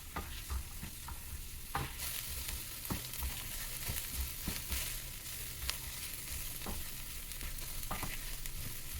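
Green chili and a quarter of a chopped capsicum sauté in a pan for menemen, a steady sizzle of frying with repeated stirring scrapes and clicks, close and continuous with no talk.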